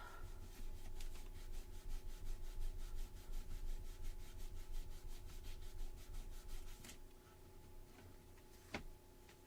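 A paper pop-up card is rubbed down with quick, even back-and-forth strokes, a faint rhythmic scratching that runs for several seconds over a low steady hum before stopping, followed by a single soft tap.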